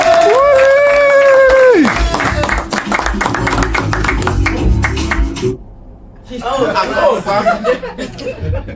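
A live audience at a comedy sketch show claps and laughs for a comedian, mixed with music and voices. The applause swells, dips briefly, then rises again among chuckles.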